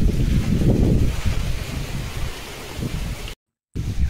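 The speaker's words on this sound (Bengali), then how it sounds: "আমার মা এখন ঘুটে গোনা তুলে দিচ্ছে, কারণ এত পরিমাণে ঝড় হচ্ছে, যখন তখন বৃষ্টি হতে পারে" Kalbaishakhi storm wind sweeping through a remote Sundarbans village, a loud, rough rushing roar that buffets the microphone, strongest at the start and easing slightly, broken by a brief gap.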